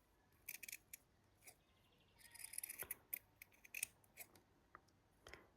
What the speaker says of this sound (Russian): теперь в таком же положении ножницами делаю вот такие вот надрезы